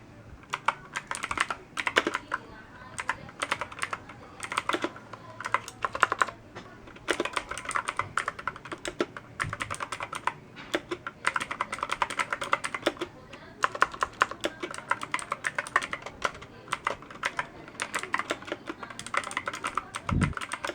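Continuous typing on a Pictek TKL gaming keyboard, steady rapid keystroke clatter with brief pauses, close and fairly loud, no talking.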